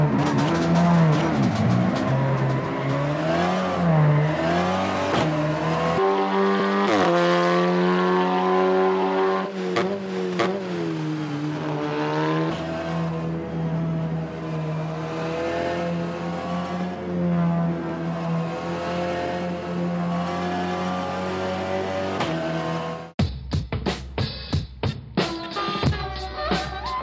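A race car laps a track in VR racing, its engine loudly revving and rising through gears with sustained whining tones, then a rapid stuttering burst near the end like downshifting or tire scrabble.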